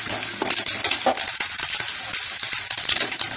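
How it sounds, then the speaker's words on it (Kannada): Peanuts frying in hot oil for tamarind rice, with lentils and cumin about to be added, crackling and sizzling loudly with a stirring spoon scraping the pan in quick, uneven bursts. "ಶೇಂಗಾ ಸ್ವಲ್ಪ ಫ್ರೈ ಆಗಿದೆ"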